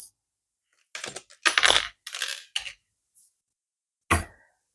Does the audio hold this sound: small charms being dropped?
yes